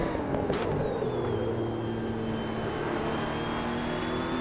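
Race car engine in the Assetto Corsa video game, a steady loud whine with gearing tones sliding downward as it runs, continuous and alone.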